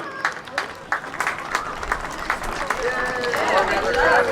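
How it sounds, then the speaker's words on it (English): Parade crowd applauding the Sons of Norway group as they pass, with scattered clapping and cheering from spectators along the route at a county fair parade, mixed with street bustle and an announcer's voice. "Folks, the Sons of Norway, give those folks a round of applause if you would."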